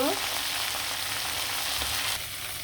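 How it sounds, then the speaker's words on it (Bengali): Chicken leg pieces fry in a pan with a dense, steady, close sizzle that barely changes and eases slightly at the very end, with no voices. "সেগুলো কিন্তু আমি লাল লাল করে সুন্দরভাবে ভেজে নিব"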